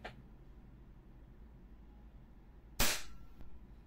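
A WE Hi-Capa airsoft pistol fires in full auto: one loud, sharp crack with a short burst tail that trails off, then a faint click, after quiet room hiss.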